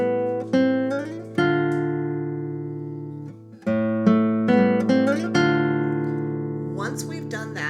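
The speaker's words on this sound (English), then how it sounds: "we are going to pluck M and P on the 4th string at the same time" Fingerstyle classical guitar, with fingers plucking notes on the fourth string including a held F. A sequence of close, clean plucked notes rings and decays, some struck together, with short gaps and no talking.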